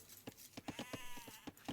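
Sheep bleat repeatedly in an Age of Empires match, a rapid series of short, close, clear calls with no talking over them.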